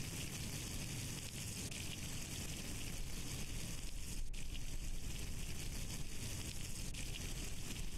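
Oil glugs steadily into a car engine in The Long Drive, a continuous rushing, gushing pour that stays loud and even throughout with no talking.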